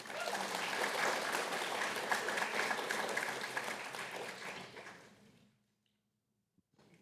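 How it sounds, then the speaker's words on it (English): Students in a university lecture hall applaud a volunteer coming to the front, a dense burst of clapping lasting about five seconds before fading into near silence. "Can we have a round of applause for Sonica,"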